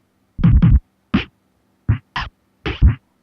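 A glitchy drum loop made from beatbox samples, processed with distortion, a guitar-cabinet model and convolution reverb. Short punchy hits fall in an uneven rhythm with gaps between them, dry and close, with no talking.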